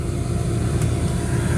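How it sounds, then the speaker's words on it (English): A/C heater blower fan running steadily inside a 2009 Cadillac Escalade after replacement: a constant, loud, even whoosh of airflow with a low hum, unbroken and without talk. "we got the fan on without the ugly noise that I had before"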